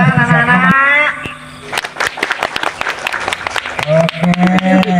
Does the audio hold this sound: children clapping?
yes